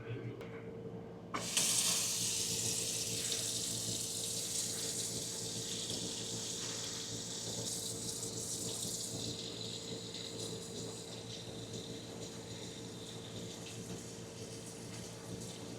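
A tap opens with a sudden gush, then hot water from an RV on-demand water heater runs steadily and evenly, with a faint low hum underneath.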